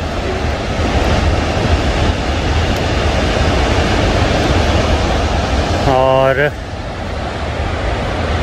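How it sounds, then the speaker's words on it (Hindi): Rushing water roars loudly and constantly near the Fairy Meadows trail below Nanga Parbat, a dense broadband wash with wind buffeting the microphone, and a voice speaks briefly over it. "ये बह रहा है समंदर"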